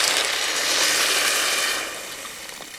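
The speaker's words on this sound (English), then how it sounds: "now I'm going to add about a liter or so of water" Cold stream water pours steadily into a pot of beaver stew over browned meat and caramelizing onions, a loud continuous rushing splash that thins and quiets near the end.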